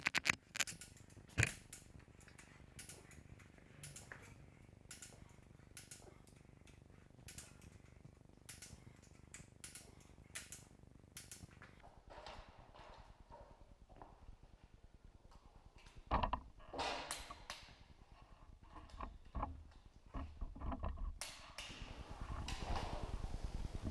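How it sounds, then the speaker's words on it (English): A torque wrench tightening engine bolts on a 351 Windsor V8 rebuild, faint mechanical creaks and ratcheting clicks in irregular bursts, quiet and close, building toward denser clicking near the end. "Now we'll try and make a smooth pull with our torque wrench"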